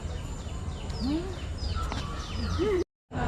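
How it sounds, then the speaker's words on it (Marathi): Several birds chirp and whistle in quick, overlapping calls over a steady outdoor hum at Govardhan Eco Village in Palghar, with a short gap of silence near the end. "इथे तुम्हाला पक्ष्यांचा किलकिलाट असं ऐकायला येईल"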